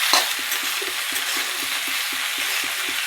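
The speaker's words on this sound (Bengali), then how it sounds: "এবার আরও একটু আমি নাড়াচাড়া করতে থাকবো।" A spoon scrapes through soybean, onion leaves and potato frying in oil for a poppy-seed dish. Regular stirring strokes click about four times a second over a constant close sizzle.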